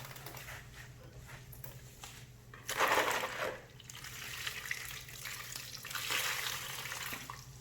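Water splashes and runs in two short bursts while a Kawasaki motorcycle wheel is rinsed off after wheel cleaner, with quiet gaps of low hum between the splashes.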